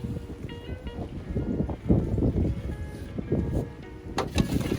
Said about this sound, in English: It's real windy out here, guys, so you're going to hear a lot of wind.